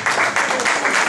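Applause from the audience at a music primary school concert, a dense crowd clapping continuously and loudly in a hall for a short moment.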